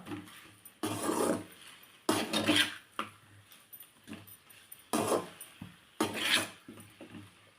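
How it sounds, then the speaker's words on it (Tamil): Taro root pieces frying in oil are stirred with a spoon, giving several bursts of rasping, scraping strokes against the pan with quiet gaps between them, close and fairly soft, with no voices. "நல்லா இது மாதிரி கிளறலாம் இந்த எண்ணெயிலே கொஞ்சம் நல்லா முருகலாக வரணும்"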